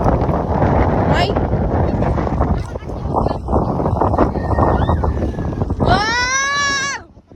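Strong wind roars and buffets the microphone outdoors for several seconds, with brief shouts and a high excited voice cutting through near the end.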